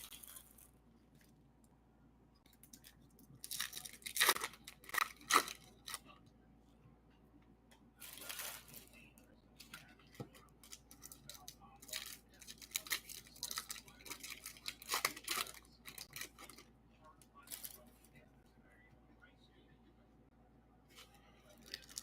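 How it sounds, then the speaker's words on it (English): Paper inserts from 2024 Bowman hobby card packs are rustled and shuffled in quick bursts of crinkling, fairly close, with quiet pauses in between. "Now we're shuffling through all the papers,"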